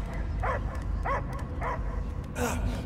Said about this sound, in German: Ich höre nur Gebell.